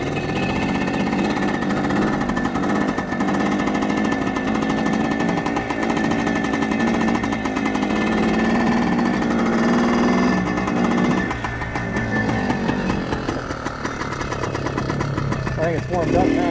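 A 1976 Kawasaki KT250 motorcycle engine runs steadily as it warms up, a loud, continuous close-up rattle with slight shifts in pitch and no breaks.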